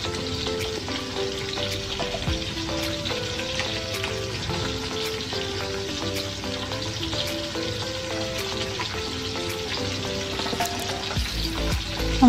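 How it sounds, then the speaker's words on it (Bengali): Lemon-marinated fish, turned partway through, frying in oil in a pan, giving a constant crackling sizzle at an even, moderate level for the whole stretch, with no voices. "মাছটা উল্টিয়ে দিলাম আর কি, ভাজা প্রায় হয়ে গেছে"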